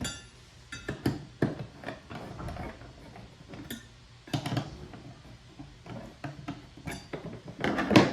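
Seat riser bolts on a FeelFree Moken PDL kayak are started with a 5mm Allen key, giving a run of small, close metallic ticks and clicks at an uneven pace against a quiet background.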